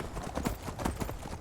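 Horse hooves clip-clop in a steady walking rhythm while riding in the video game Skyrim, close and moderately loud throughout, with no talk over them.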